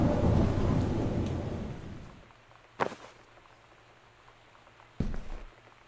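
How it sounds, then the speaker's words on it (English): In the game Gone Home, a rolling rumble of thunder fades amid steady rain, followed by two sharp, loud cracks of lightning and thunder a couple of seconds apart, with no talking. "And then lightning and thunder come as I touch the Bible."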